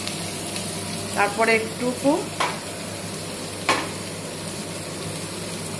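Chopped capsicum and green chilli stir-fried in a pan for chire pulao (poha), with a constant sizzle, a couple of sharp scraping stir strokes, and someone talking briefly over it.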